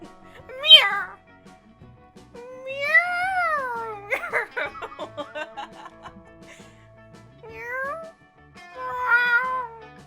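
Person imitating a cat with a series of drawn-out, rising and falling meows, several repeated with gaps between them, mixed with brief chuckling and other voice sounds nearby.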